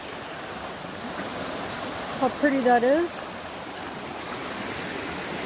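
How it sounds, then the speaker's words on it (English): A steady broadband wash of flowing water from a small river running nearby at a trail crossing on the Appalachian Trail, with a brief spoken remark partway through. "Coming up to a little river crossing."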